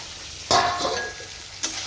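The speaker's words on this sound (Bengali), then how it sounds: "আলু বরবটি ভাজা হচ্ছে" Potatoes and yardlong beans fry in a pan under a constant sizzle, broken by a loud scrape of stirring near the start and a sharper clink or scrape toward the end.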